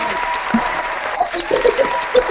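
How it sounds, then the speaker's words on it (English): Studio or conference audience cheering and applauding, a dense wash of clapping with a few whoops and shouts rising over it, steady and fairly loud throughout. "Somebody's cheering for you here"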